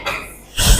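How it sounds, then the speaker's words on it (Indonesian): A single close, forceful cough, a short harsh burst after a moment of soft breathy noise. "Batuk dulu."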